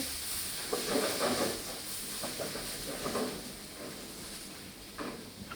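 Beef vindaloo masala with vinegar stir-fried in a hot pan gives off a steady, fairly quiet sizzling hiss, with soft scraping and stirring bursts rising and falling throughout.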